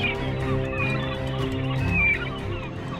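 Newly hatched baby birds in a nest in the U Minh Hạ forest of Vietnam give continuous overlapping calls. Thin high chirps ride over a dense, steady layer of harmonic cries, close and with no speech.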